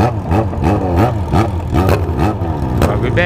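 A motorcycle engine, a Yamaha XJ6 or Honda CB1000, revs repeatedly nearby, loud and throaty, its pitch rising and falling in quick surges.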